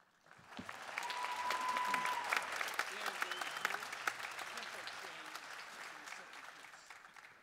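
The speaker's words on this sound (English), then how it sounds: "Join me in giving Dana a warm and welcoming applause in her solo debut." An audience claps for a flute soloist's debut at a band holiday concert, the applause rising quickly and then thinning gradually, moderately loud and crowd-filled, with a brief voice heard near the start.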